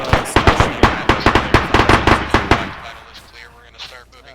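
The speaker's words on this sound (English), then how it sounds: "Hey, there's somebody shooting at us" Rapid bursts of automatic gunfire in a military video game training exercise, loud and close, firing in quick rhythmic volleys for over two seconds before fading into a quieter echoing tail.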